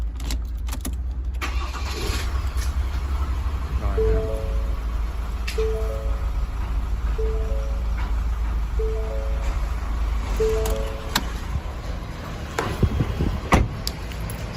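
A 2023 Ford Ranger next-gen starting with a folding remote key, a short crank followed by a steady idle, with a series of repeated short electronic chimes sounding over the engine partway through.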